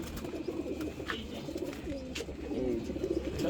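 Soft, low pigeon coos repeat through the clip over a steady outdoor background hum at a pigeon farm, with no one speaking.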